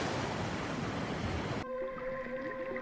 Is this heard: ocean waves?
yes